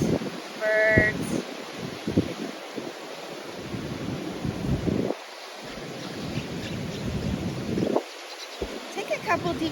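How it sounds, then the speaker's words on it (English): Beach waves washing in broad, rolling surges, with a brief high bird call early on and steady wind-like noise between swells. "Enjoy the sounds of the beach waves, birds."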